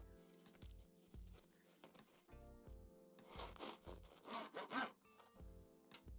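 A knife saws through baked Scotch bap rolls dusted with rice flour, giving soft, quiet rasping strokes that grow into louder crunchy tearing of the crust near the end.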